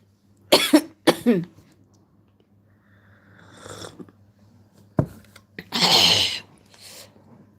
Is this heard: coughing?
yes